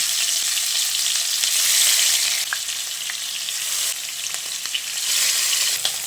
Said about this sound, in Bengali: এবার ম্যারিনেট করা মাছগুলো গরম তেলে দিয়ে দিচ্ছি।